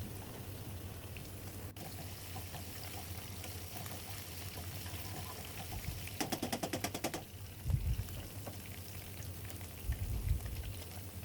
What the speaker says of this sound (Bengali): আমি এই তেলটাতেই রসুন কুচি দিয়ে দিয়েছি আর কিছু লাল মরিচ কেটে দিয়েছি এগুলো কিছুক্ষণ ভেজে নেব আমি